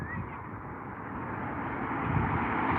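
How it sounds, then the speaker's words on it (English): An Emirates airliner taxis for departure at London Heathrow, a steady, distant low engine rumble that swells slightly toward the end with no distinct events. "EK32 is taxiing up for departure"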